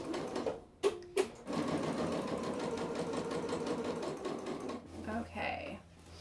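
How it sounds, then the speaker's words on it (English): A sewing machine runs in a long continuous burst, stitching lines through quilted fabric for slippers, preceded by two sharp short whirs and ending with a softer stop-start hum, close and fairly quiet. "I'm just gonna keep going, stitching more lines"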